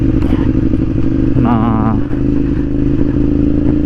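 A motorcycle with its exhaust baffles removed runs loud and close, its engine giving a deep, throaty rumble and a brief rev. Someone speaks briefly over it.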